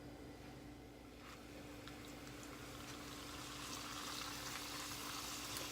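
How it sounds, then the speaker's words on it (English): Chicken taquitos sizzle in hot vegetable oil, a faint, steady crackling and bubbling that grows slightly denser over a few seconds, with a low background hum. "we're gonna start adding our flautitas in here until they are nice and crispy"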